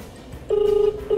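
Telephone dialing tones sound during a phone call: a short beep, then a longer steady tone that holds for about half a second, and another tone starting at the end, loud and close over quiet background.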